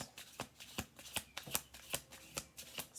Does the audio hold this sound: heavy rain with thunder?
no